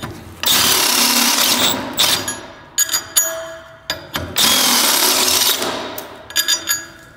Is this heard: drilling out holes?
yes